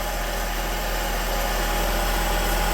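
A 2005 Chevrolet Trailblazer engine idles steadily and smoothly after new spark plugs, a constant close, loud drone with no talking.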